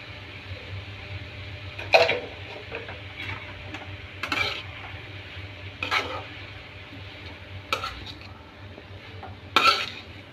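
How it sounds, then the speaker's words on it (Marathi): Chopped radish with salt stir-fried in a pan: about five distinct spatula scrapes and clinks at irregular intervals over a low, steady sizzle, close by and without talk. "मीठ टाकल्यानंतर पुन्हा एकदा भाजी मी परतून घेतली"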